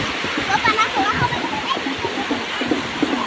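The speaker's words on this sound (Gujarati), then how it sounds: "દરિયાના મોજા આવે છે" Sea waves wash and slosh continuously along the shore near the Nishkalank Mahadev temple, a close, busy water rush with faint voices mixed in.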